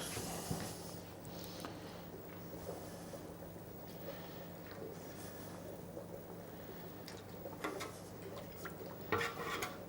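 Scraping and stirring sound out as a roasting dish is washed into a gravy pot, faint and low, with soft clatters and a few sharper metallic scrapes near the end.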